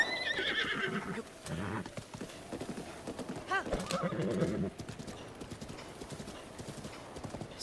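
A horse in Zelda: Breath of the Wild gallops with steady, close clip-clop hoofbeats and a brief whinny, under game ambience and some faint voice.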